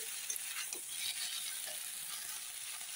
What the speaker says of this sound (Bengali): আমি এখন ভেজে রাখা কপিগুলো দিই।